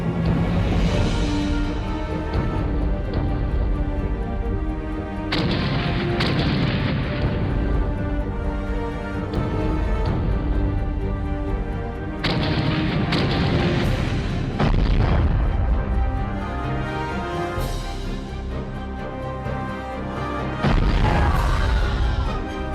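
Cannons fire in a staged battle dramatization, loud heavy booms and crashes repeating every few seconds as a continuous barrage with no spoken voices.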